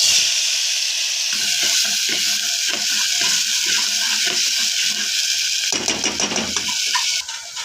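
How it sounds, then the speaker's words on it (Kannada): Freshly ground masala for crab sambar hits hot oil and sizzles loudly and continuously, with a busy crackle and a few spoon clinks as it is stirred near the end. "ನೋಡಿ ಫ್ರೆಂಡ್ಸ್, ಇವಾಗ ಎಣ್ಣೆ ಕಾದಿದೆ. ಇದು ರುಬ್ಕೊಂಡು ಬಂದಿರೋ ಮಸಾಲೆ ಹಾಕ್ತಾ ಇದ್ದೀನಿ."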